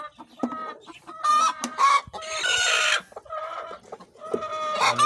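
A brown Dekalb hen clucks and squawks agitatedly while its egg is taken, loud and close, with repeated bursts of cackling and a few drawn-out protesting calls, no talk.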